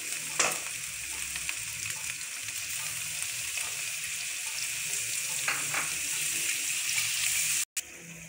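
Vegetables and tomatoes fry in a pan for macaroni with a steady, dense hiss. A couple of faint stirring clicks break the sizzle, which stops briefly near the end, and there is no speech.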